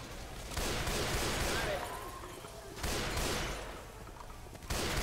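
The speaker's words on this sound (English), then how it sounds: "I think I just heard the witch take damage. I think one of the NPCs shot her." Gunfire in Left 4 Dead 2 as an NPC shoots the Witch, sustained bursts of rapid shots in three loud stretches separated by brief lulls.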